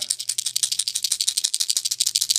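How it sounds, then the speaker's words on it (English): A plastic popper fishing lure rattles steadily as it is shaken, a rapid run of bright, clicky bursts close up with no talking. "It's definitely louder than a normal popper. It has a lower tone to it."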